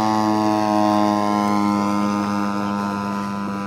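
A DLE 35 gas engine spins the propeller of a model de Havilland DH.94 Moth Minor monoplane trainer, giving a loud, steady, even drone close by that holds its pitch throughout and fades only slightly.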